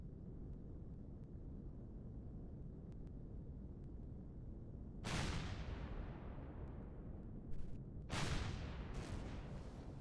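Two heavy, booming gunfire blasts in the space survival game Empyrion - Galactic Survival, each bursting out loud and rumbling away slowly over a constant low engine-like drone, with no voices.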